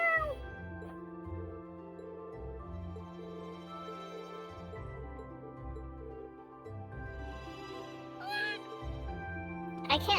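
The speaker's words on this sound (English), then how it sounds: "I can't give anything to the kitty cat" Cat meows from the Trails of Thors video game, several rising calls scattered over a steady layer of game music, clearest near the middle and end.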